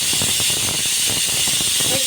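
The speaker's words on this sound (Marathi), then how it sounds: "एक शिट्टी आली" A pressure cooker steaming cluster beans (gavar) on a gas stove lets off its whistle as a loud, continuous rushing hiss of escaping steam for about two seconds, with no talking.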